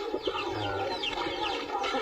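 Several backyard chickens kept as pets cluck and chatter continuously in a close, busy flock, with short rising calls overlapping through a steady low background hum.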